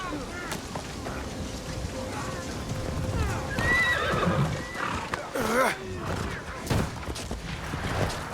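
Horse neighing and clip-clopping hooves in the video game Assassin's Creed Shadows, with several whinnies rising over a busy, continuous game soundscape of clatter and ambient noise.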